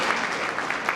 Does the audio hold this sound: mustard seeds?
no